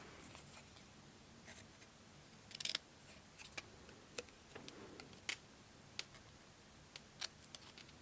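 Tiny scissors make sparse, faint snips, cutting paper for a simple single-layer stamped card in a quiet room. The sharp little clicks come at irregular intervals.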